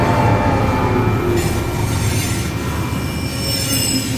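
A train passing a level crossing in Poland, heard close and loud, with continuous wheel squeal over a heavy rolling rumble that holds steady throughout.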